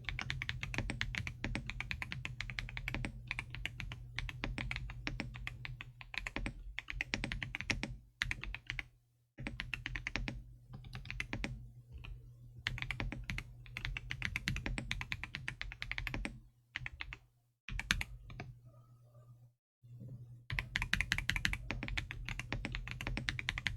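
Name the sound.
typing on a computer keyboard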